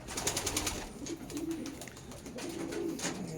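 A racing pigeon coos close by after landing, with repeated soft throaty rolling calls over a rustling, breezy background.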